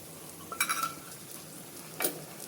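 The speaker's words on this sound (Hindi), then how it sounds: "इनको अच्छे से अब चला लेंगे।" Spices and ginger-garlic paste with green chillies frying in a pan for jackfruit kofta curry, stirred in two short scraping bursts over a faint steady sizzle, close and fairly quiet, no talking.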